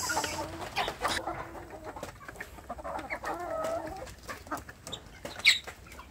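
Young free-range village chicks in a plastic coop, cheeping and clucking in short, irregular near bursts, with a sharp peep standing out toward the end.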